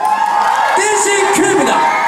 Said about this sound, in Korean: 자, 큰 박수 보내주세요